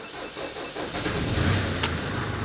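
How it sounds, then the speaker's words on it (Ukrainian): A Mercedes Sprinter van's engine cranks and catches, then settles into a steady, close idle that swells slightly as it fires up. "Так, заводимо машину."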